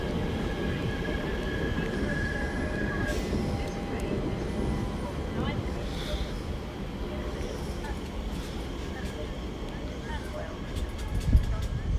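TfL train pulling into Ealing Broadway station on the Great Western Main Line, a continuous low rumble and rolling rail noise at moderate distance with a faint high whine, building slightly near the end.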